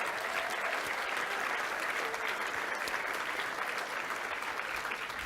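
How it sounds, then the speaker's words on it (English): Sustained audience applause at a learning awards ceremony, a continuous, evenly dense crowd of clapping heard from a distance at low volume, with faint voices mixed in. "Huge round of applause for them, please."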